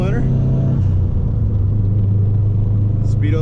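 Steady low rumble of a 2003-2007 Subaru STI engine running on E85 while cruising at about 45 mph, loud and continuous, with someone talking over it.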